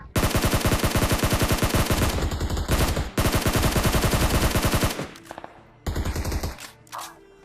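SCAR assault rifle with no attachments firing in long rapid full-auto bursts in a battle-royale shooter game, loud and dense, with brief pauses between volleys and a short tail of scattered shots.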